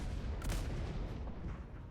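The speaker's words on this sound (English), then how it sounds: "that one was a harbor cannon, I think" A harbor cannon in a naval role-play video game fires one muffled boom over a steady low rumble of game ambience, with no talk.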